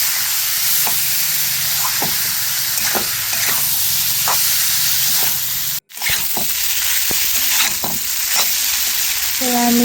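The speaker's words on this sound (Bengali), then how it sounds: "দেওয়ার পরে ভালো করে নেড়ে চেড়ে নেব, যেন সুন্দর হয়ে মিশে যায়।" Potato poha stirred in a hot frying pan: loud, close, steady sizzle and hiss with regular spatula scrapes, briefly cutting out to silence mid-way before resuming.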